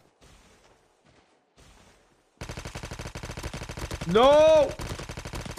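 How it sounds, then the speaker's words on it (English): Rapid automatic gunfire rattles in a Call of Duty Mobile match after a quieter stretch of scattered shots, loud and sustained, with a short voiced exclamation. "Then there were some other shots going off the left over here."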